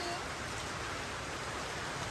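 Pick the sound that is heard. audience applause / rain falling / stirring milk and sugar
rain falling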